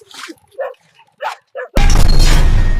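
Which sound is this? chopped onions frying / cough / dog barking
dog barking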